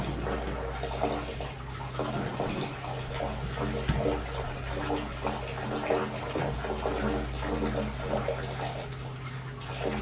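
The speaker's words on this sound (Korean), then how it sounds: "깨끗하게 씻은 이제 콩잎은 물기를 꼭 짜주세요" Water streams and splashes as washed soybean leaves are squeezed out by hand, a steady close wash of running, trickling water with small rustles and no talking.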